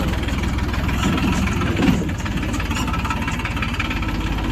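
A tractor engine runs steadily on a road turned to mud after eight days of rain, its low, rough rumble close and continuous throughout with no talking.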